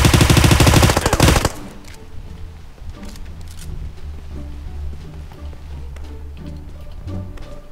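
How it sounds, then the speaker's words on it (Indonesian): Automatic gunfire in PUBG Mobile: a dense, loud burst of rapid shots in the first second, then quieter game ambience with scattered distant shots and effects. "Dia kena tembak, dia kena tembak dalam rumah."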